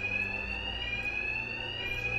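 A loud, steady electronic alarm blares without pause in the Batman: Arkham Knight video game, a sustained shrill tone over a low rumble of background game audio, with no talking.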